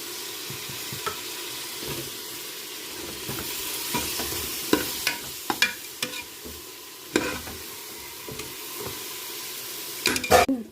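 Mutton biryani masala gravy with yogurt, garlic paste and herbs sizzles in oil while a spoon scrapes and stirs it in repeated clattering strokes over a steady frying hiss.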